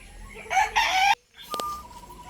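A rooster crows loudly and close by, one full cock-a-doodle-doo, followed after a short pause by a brief squawk and a thin tone.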